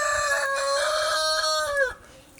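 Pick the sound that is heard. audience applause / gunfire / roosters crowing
roosters crowing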